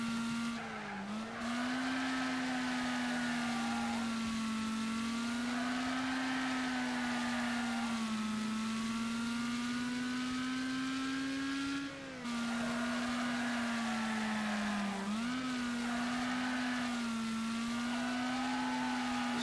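A racing game car engine drones and revs continuously, its pitch rising and dipping as the car drifts through corners, with tire squeal layered over the steady motor.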